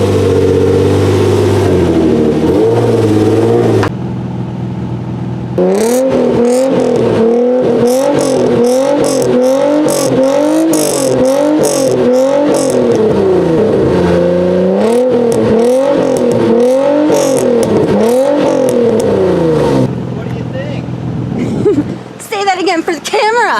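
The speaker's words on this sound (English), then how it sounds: "we are ready to fire this baby up so you can hear the new exhaust" A Nissan 350Z with a new Godsnow catback exhaust idles, then fires into a run of eight or so sharp throttle blips, each rev climbing and falling in a regular rhythm, before dropping back to a rough idle.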